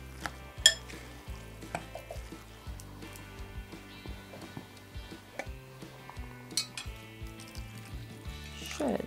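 Zucchini stuffing filling sizzles and bubbles in a pan after water is added, with repeated scraping and stirring strokes and light clinks of a utensil against the pan, close and steady, with no talking.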